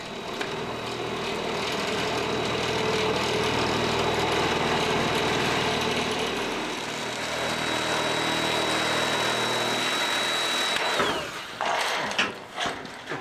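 A basket lift's engine runs with a steady mechanical drone and faint whine for about eleven seconds, then drops off abruptly, followed by a few clanks and rattles nearby.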